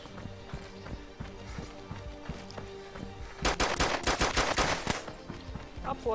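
Rapid bursts of video game gunfire erupt, loud and close, in dense clusters over a steady game soundtrack with background hum.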